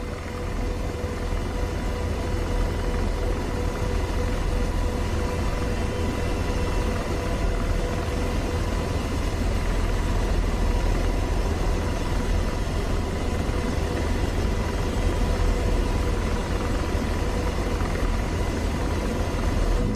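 Steady engine whine and rotor rumble of an AH-64D Apache helicopter in DCS, a constant, loud drone with a fixed tonal hum that holds unchanged, with no voices.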